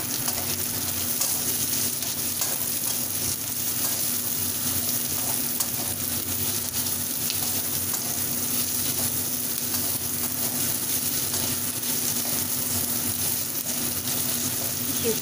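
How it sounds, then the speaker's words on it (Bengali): Potatoes and onions fry together in a pan, giving a steady, close sizzle that holds at an even level throughout with no talking. "আলুগুলোকেও এবার পেঁয়াজের সাথে একসাথেই ভেজে নেব।"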